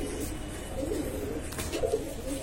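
An older black-necked pigeon of the Mayna style coos softly at close range, with low, rolling throaty calls repeating over quiet background hiss.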